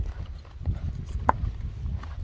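A horse walks on hard ground during a Novokyrgyz horse sale, its hooves clip-clopping in a steady, fairly close rhythm with one sharper knock partway through.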